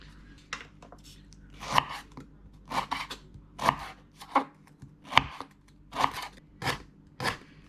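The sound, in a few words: knife cutting a lime in half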